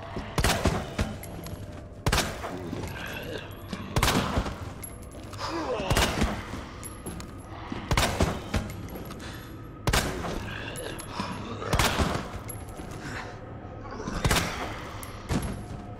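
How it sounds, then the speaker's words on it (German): Gunfire in the video game Resident Evil 2: a series of sharp, loud shots fired at roughly two-second intervals, each with a booming tail, over faint game ambience. "Schüsse einfach nur, also."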